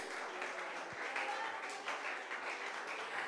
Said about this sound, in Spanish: Dele aplausos al Rey de Gloria por la bendita y hermosa palabra de Dios